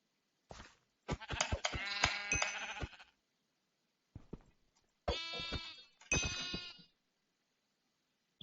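Sheep bleat in the Minecraft video game, several distinct wavering calls in a row with short silent gaps between them, clear and close against a silent background.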